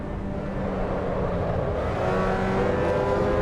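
A Mazda race car in the iRacing sim game drones steadily with engine whine, close and continuous, its pitch shifting as it comes down through the gears.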